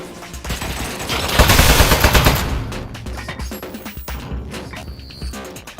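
Turret gunfire in Aperture Desk Job: a dense, loud burst of rapid automatic fire swelling in the first seconds, then thinning into scattered shots and clatter over game ambience.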